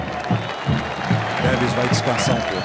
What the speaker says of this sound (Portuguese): recebe os aplausos da torcida, merecidos aplausos